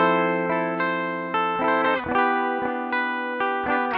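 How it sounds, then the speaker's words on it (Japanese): A Gibson ES-335 electric guitar on its rear pickup, played through a bypassed clean signal, picks a handful of bright single notes and chord stabs, each ringing out cleanly and decaying, close and alone. "ギブソンの ES335 のリアピックアップのポジションです。"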